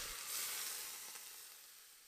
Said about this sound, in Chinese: 最后浇上热油，激发香味儿